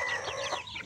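Young Giro cockerels about two months old, sons of a silver Giro rooster, give a short burst of close clucking and chirping calls.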